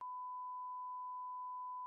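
A steady censor bleep, a single pure tone held for about two seconds to cover a word in a casual podcast conversation, loud and alone with a sharp start and stop.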